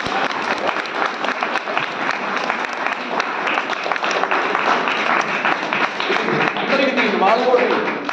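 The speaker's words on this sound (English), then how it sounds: "give a big clap to them all." An audience at a Manchester lecture-recital on the 72 melakarta ragas claps steadily for several seconds, a dense sustained applause that swells louder toward the end.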